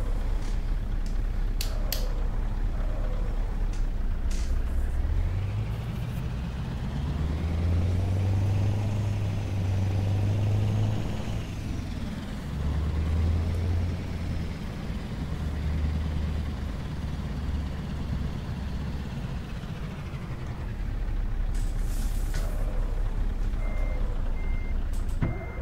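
A Scania T Series truck in Euro Truck Simulator maneuvers to pick up a trailer, its deep engine rumble rising and falling under steady repeated reversing beeps, with brief air brake hisses near the start and end.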